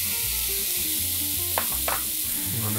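Onion, bell pepper, garlic and tomatoes sizzling in oil in a paella pan, a steady close frying hiss with a couple of brief stirring scrapes and low background hum.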